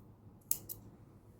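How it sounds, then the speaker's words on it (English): Scissors snip the leftover yarn from a small crochet teddy bear pencil topper: two quick, crisp close-up cuts, the first louder, against a quiet room with no speech. "cut the extra yarn"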